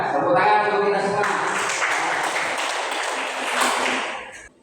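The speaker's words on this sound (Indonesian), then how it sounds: "Tepuk tangan untuk kita semua." A classroom of students claps together in a short, bright burst that fades after about four seconds, with a ringing tone at the start.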